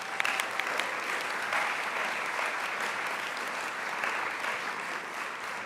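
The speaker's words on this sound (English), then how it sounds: "give a round of applause to our subcommittee members" An audience at a student symposium claps for subcommittee members, a dense, even wash of applause that holds steady throughout, moderately loud, with no voices over it.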